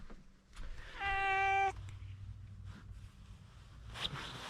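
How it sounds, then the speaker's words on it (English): A cat gives a single drawn-out meow, clear and close, inside a shed, with light rustling and shuffling around it and a brief sharp scrape afterward. "There is my kitty."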